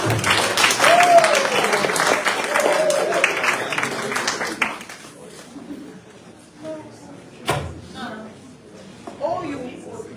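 An audience at a memorial lecture breaks into applause that starts loud with a lone voice over it, then fades after a few seconds, leaving a quieter room with scattered talk and a sharp knock.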